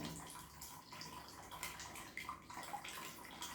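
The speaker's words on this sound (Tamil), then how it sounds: "இப்போ நம்ம தேங்காய் எண்ணெயோட இந்த காய்ச்சி சோடாவும் தண்ணியும் சேர்ந்து கலந்த தண்ணியை நம்ம ஊற்றுவோம் கொஞ்சம் கொஞ்சமாக ஊற்றிக்கிட்டே கலந்துக்கிட்டே இருப்போம்" Lye water poured gradually into coconut oil for aloe vera soap while being stirred, a faint steady trickling and sloshing with soft gurgles, close and continuous.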